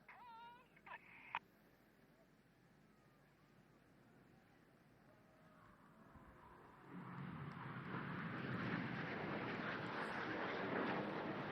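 Red Arrows display jets at a seaside air festival, a distant roar building gradually into a broad rushing jet noise that swells and stays loud, after a few brief sharp sounds at the start.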